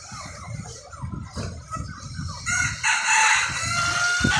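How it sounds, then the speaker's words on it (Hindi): Desi roosters at a poultry sale crow and cluck in a busy, continuous chorus of several birds, louder in the second half with overlapping calls, fairly close and with no talk over them. "ये सारे मुर्गे ही है ना।"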